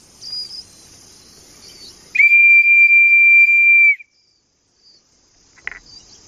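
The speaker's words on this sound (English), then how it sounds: "when you blow it hard and long from the bottom of your lungs and get a really shrill whistle" A lightweight hiking safety whistle blown hard and long gives one loud, piercing, steady shrill tone of nearly two seconds, close by, followed by quiet.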